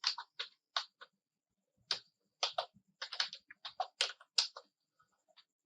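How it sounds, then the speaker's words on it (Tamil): Short bursts of crisp key clicks on a computer keyboard while text is typed, coming in uneven clusters of a few strokes with brief pauses between, close and clear in a quiet room. "நான் க்ளோ எஃபெக்ட் அப்படின்னு நான் டைப் பண்ணிக்கிறேன்"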